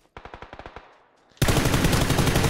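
A rapid burst of about a dozen sharp shots in quick succession, then a loud continuous roar of heavy gunfire, up close and dense like game combat.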